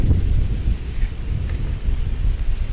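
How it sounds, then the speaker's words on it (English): Strong outdoor wind gusts buffet the microphone as a storm approaches, a loud continuous low roar with surging swells and no voices. "here comes the wind again. That's blowing over my chairs."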